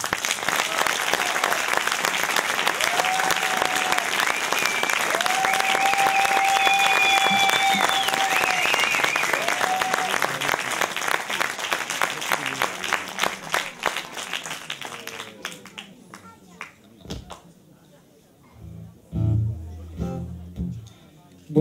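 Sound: audience applause for Marco Fedrigo

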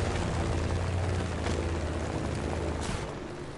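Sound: airplane engine in Just Cause 3 video game

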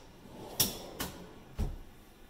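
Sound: kitchen pull-out drawers opening

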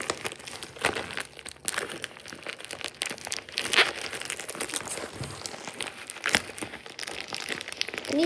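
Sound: peeling tape off a package

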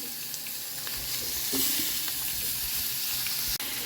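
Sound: chana dal and tomato frying in a pan

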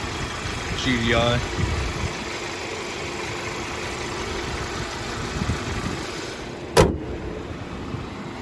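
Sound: Hyundai Sonata GDI engine idling in engine bay

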